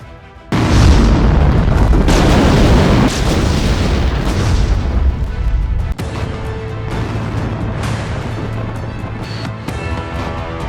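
A Russian RS-28 Sarmat intercontinental ballistic missile launches with a sudden deafening roar that holds as a broad thundering rumble, then eases to a lower steady rush.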